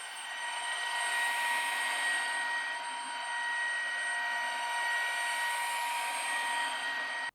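A Dreame H12S wet-dry vacuum runs with a steady, even whine and rushing airflow, holding a constant moderate loudness throughout with no voices.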